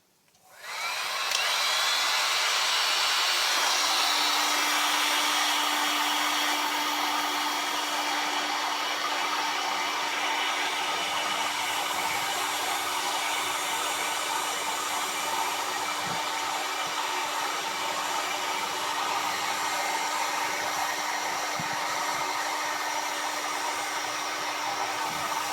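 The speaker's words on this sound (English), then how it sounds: "Here we just got a little heat gun we use for, my wife uses for taking paint off of old furniture." A small heat gun of the kind used for stripping paint from old furniture runs steadily and loudly throughout, a constant broadband whoosh of blowing air with a faint steady hum beneath it and no talking.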